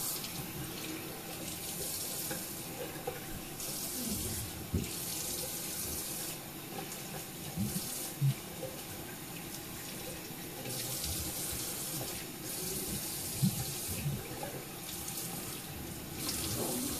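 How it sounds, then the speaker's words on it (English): Water runs steadily from a sink tap while soap is rinsed off by hand. The rushing stays close and continuous, with slight shifts in tone as hands move under the stream. "I'm just going to rinse off"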